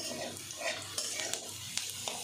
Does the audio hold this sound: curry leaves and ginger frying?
yes